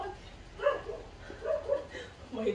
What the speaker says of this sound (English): my barking dog.